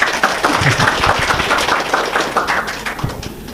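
A seated audience at a spiritual lecture claps together, a busy, fairly loud patter of many hands with distinct individual claps standing out, slowly thinning near the end.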